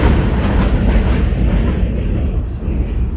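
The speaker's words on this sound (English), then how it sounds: "I'm gonna wait for the train to pass" A train rumbles past close by, a steady broadband roar with low rail rumble that slowly eases off toward the end, with no voices.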